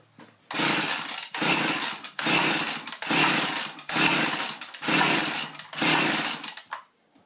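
A Husqvarna 50 chainsaw engine, previously flooded, catches and revs in six loud, close bursts, each roaring for about half a second to a second before briefly dropping off, with no talking.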